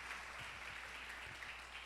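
Church congregation applauding steadily and loudly, a dense continuous wash of many hands clapping throughout, with a faint low hum underneath.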